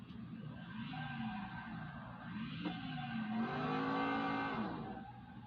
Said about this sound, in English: Does have a nice sounding engine.